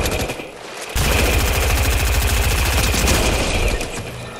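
Loud, sustained rapid gunfire during a Fortnite trios match runs as dense automatic bursts for several seconds after a brief lull, close and overwhelming, with no talk over it.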